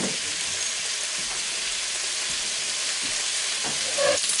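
Canned all-beef chili with no beans sizzles and fries steadily in a hot pan, a continuous bright crackle that holds close and even throughout, with a few faint clinks near the end.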